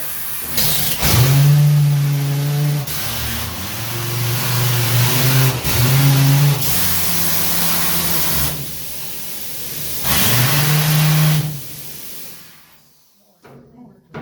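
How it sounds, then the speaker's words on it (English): A loud compressed-air ore car loader at a gold mine runs in repeated bursts, each a strong hissing rumble with a low droning tone, pausing briefly between cycles before falling silent. "Runs off compressed air, guys, so while I get it in motion, it's gonna be noisy."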